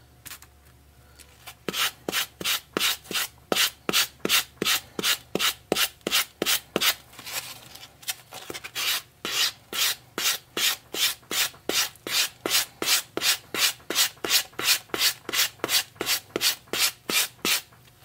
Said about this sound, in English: A bit tricky to sand here because of the clay.